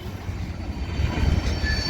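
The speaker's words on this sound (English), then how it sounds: "there's an auto rack train that is waiting for this manifest train to go by" A manifest freight train rolls past in Minneapolis, a steady low rumble of wagons with faint wheel squeal and clatter, close and continuous.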